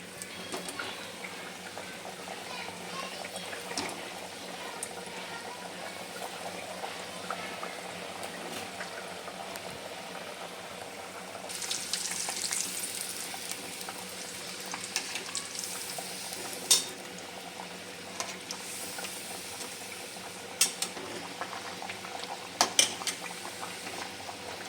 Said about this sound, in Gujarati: ચાપડી તરવાનું તેલ તૈયાર થઈ ગયું, ગરમ થઈ ગયું। હવે એમાં ચાપડી નાખવાની।